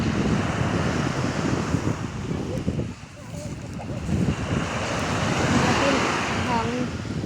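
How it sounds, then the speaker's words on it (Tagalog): Seaside wind in Batangas, a steady moderate rush across the microphone with surf-like wash, while people talk nearby. "Hangin."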